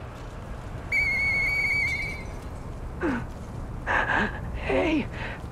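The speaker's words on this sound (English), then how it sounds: "I know that whistle." A sustained two-tone whistle from the video game Lies of P rings out alone, followed by a few shorter whistled chirps and quick rising calls over a quiet, hushed background.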